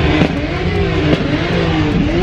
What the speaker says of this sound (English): People are already burning now and revving their cars